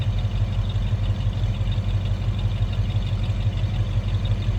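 A 1966 Ford Mustang convertible with a 289 V8 idles through a GT-style exhaust, a steady low rumble with an even, throbbing pulse, close and loud, with no voices over it.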